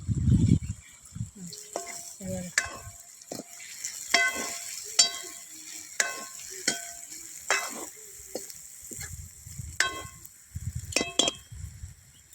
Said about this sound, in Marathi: एक एक वांगे करून तेलामध्ये सोडून द्यायचे फोडणीमध्ये